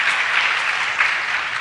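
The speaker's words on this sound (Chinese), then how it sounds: "请大家鼓掌。" A room full of conference attendees claps for an invited security speaker at a PHP developer event, dense even applause throughout, moderately loud and unbroken.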